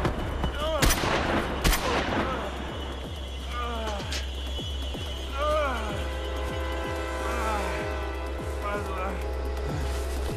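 Gunfire in a Russian TV drama set outdoors: two sharp, loud cracks near the start, followed by fainter intermittent shots and clicks under ongoing conversation and background noise.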